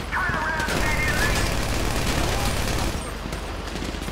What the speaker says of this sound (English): So I guess we shooting our way out of here.